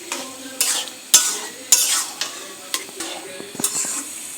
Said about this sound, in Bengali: এখন সবজিগুলো দিয়ে দেব পাস্তার মধ্যে। দিয়ে নাড়তে থাকবো।